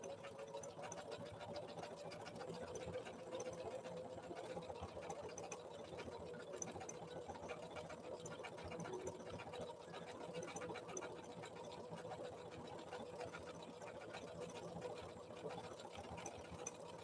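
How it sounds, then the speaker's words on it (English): Janome Memory Craft 7700 QCP sewing machine running a tri-motion stitch in a workshop, giving a fast, steady mechanical chatter that stays even and continuous, fairly faint and close, with no talking over it. "It's a tri-motion. And that's by manipulating the pitman arm with inside of the machine very rapidly."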